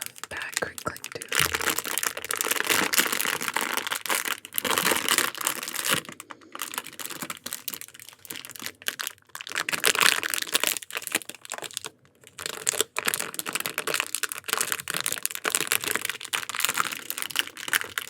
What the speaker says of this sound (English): I just love bag crinkling too.